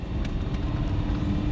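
Repaired Audi R8 on the road, a brief steady engine and road rumble, close and continuous, with no voices.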